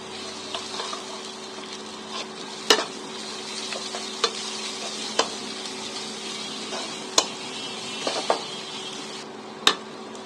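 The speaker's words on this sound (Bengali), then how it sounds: "থেতো করা আদা রসুন পেঁয়াজের সাথে ভালোভাবে একটু ভেজে নিলাম" Crushed ginger and garlic fry with onion in a pan, giving a steady close-up sizzle broken by occasional sharp clicks and scrapes of stirring, with no voices.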